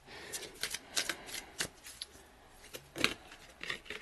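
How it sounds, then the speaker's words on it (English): Tarot cards being shuffled by hand, a series of crisp riffling bursts and soft slaps in an irregular rhythm, close and clear with quiet gaps between shuffles. "I'll do a couple more shuffles."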